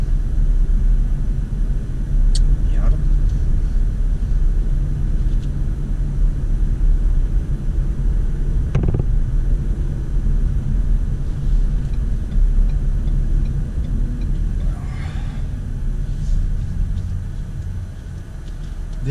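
A 2017 Ford Fusion Sport mid-size family car accelerates, a steady low engine and road rumble heard from inside the cabin, continuous and fairly even over a long stretch with a few faint clicks.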